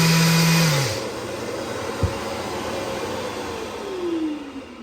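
A shop vacuum cleaner connected to a hose setup switches on with a loud burst, then runs as a steady rushing hum with a rising pitch sweep near the end.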